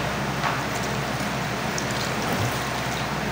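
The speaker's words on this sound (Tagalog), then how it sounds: "lalagyan din po natin ng mga half cup ng tubig" Half a cup of water poured into a cooking pot of tulingan fish simmered in coconut milk with kamias, a steady, close trickling splash lasting a few seconds with no talk.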